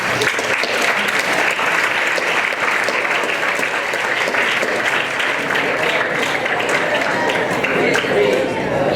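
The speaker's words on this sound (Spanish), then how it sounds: "con un aplauso recibamos a Carlos" Sustained audience applause, dense and steady clapping from a large crowd filling the whole stretch without pause.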